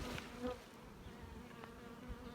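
Carniolan honey bees (Carnica Troisek line) buzz at the hive, a dense, steady drone close to the listener with no talk, holding evenly throughout.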